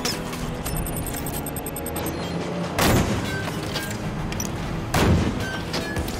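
Missile fire in the shooter game Halo 5: two loud, broad blasts about two seconds apart stand out over a dense, continuous bed of game battle noise, with no talk.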